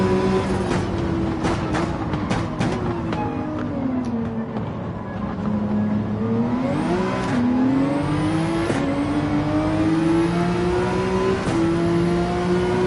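Race car engines roar loud and steady in Gran Turismo 7, revving up and down through gear changes with rising and falling pitch as cars pass along a straightaway, with no talk.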